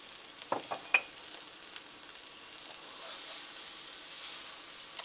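Spicy green beans sizzle in a pan over medium-high heat, a faint steady hiss broken by a few sharp stirring clacks near the start; quiet and close, with no talking.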